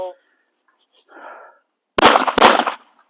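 A shotgun fires at clay targets on a shooting range: two sharp, loud blasts about half a second apart, close by, after a brief shout.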